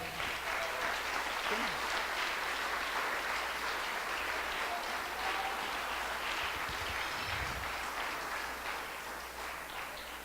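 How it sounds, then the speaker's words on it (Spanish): A church congregation claps loudly and steadily at a worship service in praise of God, dense continuous applause filling the room for about ten seconds and tapering slightly toward the end. "Denle un fuerte aplauso a Dios."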